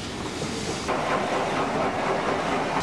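A train pulling an army railway carriage rolls along the rails with a steady, rumbling clatter and a hiss. The sound carries evenly throughout and grows slightly louder partway through.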